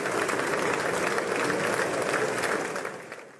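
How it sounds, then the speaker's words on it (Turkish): A standing ovation rolls through the US Congress chamber as the Israeli Prime Minister enters, dense sustained clapping from a large crowd that tapers off near the end. "Netanyahu salona girdiği andan itibaren ayakta alkışlandı. Bu alkış yaklaşık 4 dakika sürdü."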